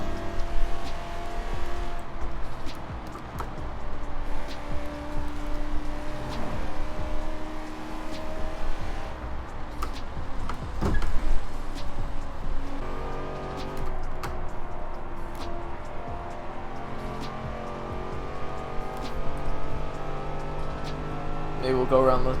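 Supercharged 6.2 liter V8 car engine in Forza Horizon 4 driving around a track, a continuous loud engine drone rising and falling with revs and shifts, with occasional tire noise and no talking.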